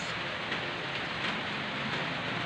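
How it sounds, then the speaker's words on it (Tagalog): Steady rain falls in an even, unbroken hiss, soft and constant throughout with no voices. "baka hindi humupa yung ulan"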